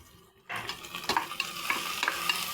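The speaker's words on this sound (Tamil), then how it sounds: "நல்லா வதக்கி விடலாம்." Rock salt and ingredients stirred and sautéed in a hot pan, close scraping strokes of a spoon repeating over steady soft sizzling, with no voices.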